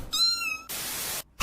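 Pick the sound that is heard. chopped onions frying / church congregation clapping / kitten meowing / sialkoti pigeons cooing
kitten meowing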